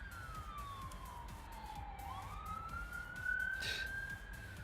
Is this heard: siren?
yes